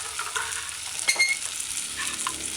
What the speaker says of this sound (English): coat the potato with the herbs and the vegetables, the sauteed vegetables. Stir it in